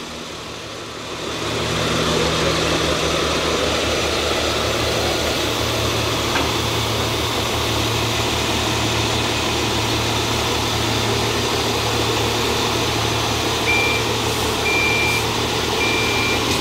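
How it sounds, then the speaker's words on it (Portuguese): A Volkswagen 26260 truck at a road construction site, its heavy diesel engine holding a steady low drone while a reversing beeper chirps intermittently toward the end. "Vamos ver aqui se vai patinar o caminhão acelerando. É um Volkswagen 26260."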